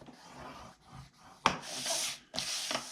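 Cardstock scored with a scoring tool along a 12-inch edge, heard as close dry rubbing strokes: a longer scrape, then a sharper louder pass at mid-clip and a final stroke, with no talk.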